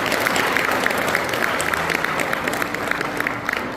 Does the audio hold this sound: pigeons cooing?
no